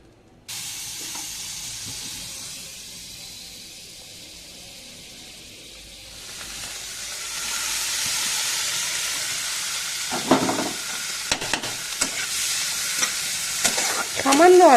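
Butter sizzles in a kadai, starting faint, then swelling into a steady, louder frying hiss about midway, with scattered clinks and scrapes of stirring toward the end; no one speaks.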